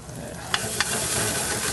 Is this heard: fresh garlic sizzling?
yes